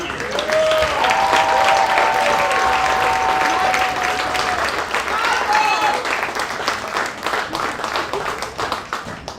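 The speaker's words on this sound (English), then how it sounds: "Let's give one more big round of applause to all our seniors." A crowd at a softball senior night applauds steadily and loudly, broadband clapping filling the air as cheers and whoops rise over it, with a few voices calling out.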